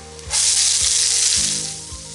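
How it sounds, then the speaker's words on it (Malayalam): Three finely chopped medium onions hit hot oil in a pan for Kerala fish pollichathu, bursting into a loud, close, continuous sizzle that gradually settles while a few soft stirring knocks sound underneath. "ഇനി ഇതിലേക്ക് 3 മീഡിയം സവാള ചെറുതായിട്ട് കട്ട് ചെയ്തത് ചേർക്കാം"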